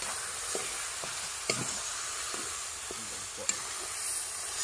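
A paste of ginger, garlic, onion and cumin frying in a pan gives a constant close hiss and sizzle, with a few soft scrapes and light clicks from stirring and no voices.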